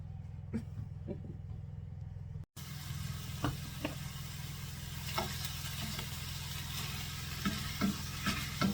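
Italian sausage frying in a pan for a lentil soup, a steady sizzle with occasional stirring scrapes and clicks running throughout, with a brief dropout near the start.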